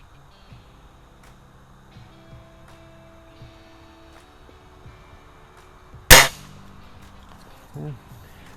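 A .177 pellet from a Crosman Optimus break barrel air rifle strikes a backyard target at about 20 yards with one sharp, loud metallic clang, followed later by a softer second impact, amid quiet surroundings.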